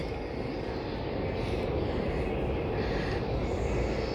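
Airplane at Clark International Airport, a steady low jet engine rumble heard from a distance, moderately quiet and unbroken throughout, with no talk.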